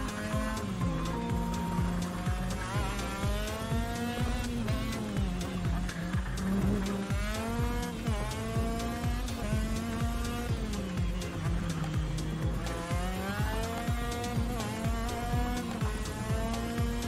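Racing kart engine in KartKraft screams steadily through a full lap, its pitch rising and falling through corners and straights, loud and continuous with music-like tonal layers over it.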